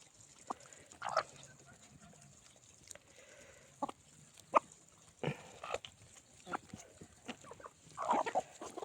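Scattered short clucks and squawks from chickens, several bursts spread across the clip with quiet gaps, fairly close, over low background noise.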